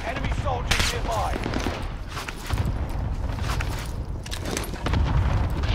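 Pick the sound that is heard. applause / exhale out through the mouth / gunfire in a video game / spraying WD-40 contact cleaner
gunfire in a video game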